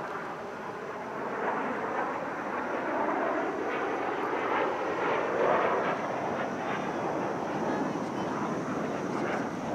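Fursan Al Emarat display team jets fly overhead at an airshow in Dubai, trailing coloured smoke, giving a loud continuous broadband roar that swells slightly midway and holds steady throughout.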